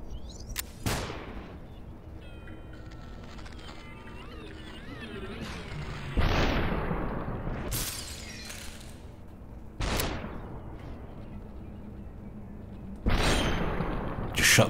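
Gunshots in the game Superhot, four or five sharp loud bangs spaced a few seconds apart, each cracking and then fading over a quiet background.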